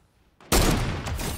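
A burst of gunfire in the video game Fortnite erupts suddenly after a faint click, a loud sustained crackle of rapid shots that continues to the end with no talking.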